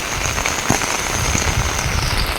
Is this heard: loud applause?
no